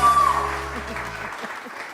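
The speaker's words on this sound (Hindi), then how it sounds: "उरूज के लिए बहुत सारी तालियां जी।" Studio audience applauding on a morning show, with a steady wash of clapping that continues as a low tone stops partway through.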